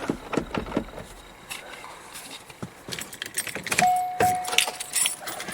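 Car keys jangling as they are pulled from the ignition of a C5 Corvette, bright close metallic rattles and clinks coming in uneven bursts over a quiet background, with a brief faint tone near the end.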